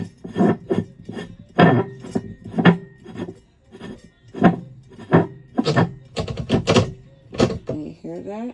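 Rhythmic wooden knocks and scraping rubs as a travel trailer table leg on a 2025 Meerkat is lined up and swiveled down into place, a close series of sharp taps and creaks ending in a firm catch.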